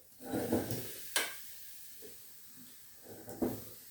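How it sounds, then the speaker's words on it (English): Chapatis cooking in a hot pan give a soft sizzle with scraping and handling knocks, louder bursts near the start and end and quieter frying between. "start cooking the chapatis now"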